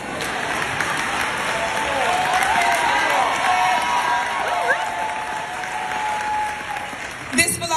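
Audience applause fills a live show, with steady, dense clapping that rises slightly and then tapers near the end.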